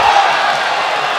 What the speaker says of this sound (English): Crowd got excited.